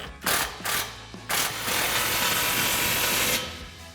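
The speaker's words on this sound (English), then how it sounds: "15mm socket on the clamp." A ratchet on a 15mm socket tightens an exhaust clamp on a RAM 1500 with a Magnaflow SPEQ Series dual exhaust: three short clicking bursts, then a longer continuous run of ratcheting, close up and without talk.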